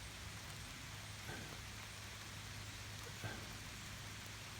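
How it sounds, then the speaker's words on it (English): Heavy rain falls on leaves outdoors near a farm corral, a steady hiss of drops that stays even throughout, with a couple of faint thuds and no voices. "Rain's hitting the leaves."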